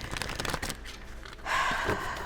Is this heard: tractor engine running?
no